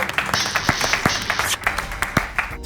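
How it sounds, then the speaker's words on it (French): Audience applause for the winners at a French rap game show, a dense wash of hand claps with some louder individual claps standing out, fading slightly near the end. "on applaudit"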